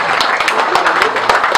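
A birthday gathering crowd claps together while standing, a dense patter of hands with a few sharper individual claps standing out, mixed with voices talking over it.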